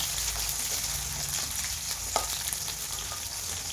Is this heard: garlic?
yes